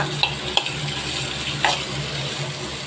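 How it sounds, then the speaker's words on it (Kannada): Food frying in a pan at home, a steady close sizzle with a few sharp spoon clicks scattered through it. "ಒಂದು 10 ನಿಮಿಷ ಚೆನ್ನಾಗಿ ಫ್ರೈ ಮಾಡ್ಕೊಂಡ್ಬಿಟ್ರೆ ಸೂಪರ್ ಟೇಸ್ಟಿಯಾಗಿರುತ್ತೆ"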